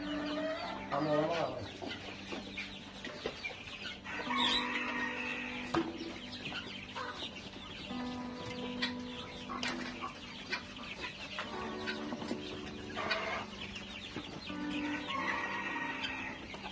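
Native chickens and chicks cluck repeatedly, with a rooster-like call and scattered fowl noises across a busy, steady yard soundscape; faint voices in the background.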